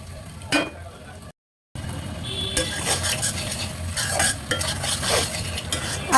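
Chepa fish bhuna is stirred in a pan, giving repeated close scrapes and clatters of a spoon against metal over a low sizzle, with one short dropout.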